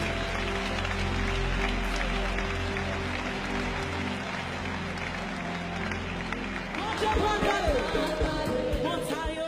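A church congregation at a Haitian service claps together in sustained applause over steady music with a deep bass drone, the clapping growing more pronounced toward the end.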